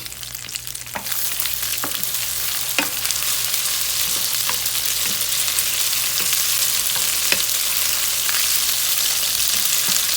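Tomato paste is stirred in a pot with a wooden spoon, giving a steady loud sizzle broken by regular scraping knocks of the spoon against the bottom.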